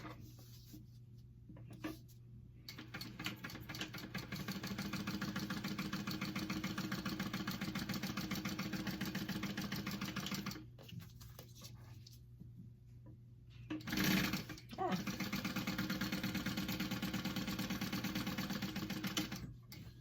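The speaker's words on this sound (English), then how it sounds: "I'm gonna do a second row of stitching just like we did on our flap" A sewing machine stitches a second row along a fabric clutch, a steady mid-pitched mechanical whir running for long stretches with a couple of brief pauses between runs.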